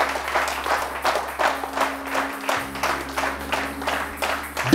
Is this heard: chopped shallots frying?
no